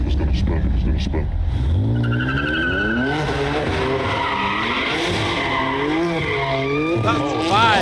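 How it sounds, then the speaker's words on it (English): Video game race car skidding and spinning out, long squealing tires with wavering engine tone, loud and continuous, with a person talking over it. "I don't understand how you're driving like this. It's gonna spin. It's gonna spin."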